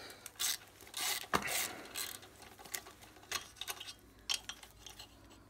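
A wrench loosens the 11 mm cylinder nuts on a Piaggio Ciao moped, with a few metallic clicks and ratcheting scrapes in short bursts, close and fairly quiet.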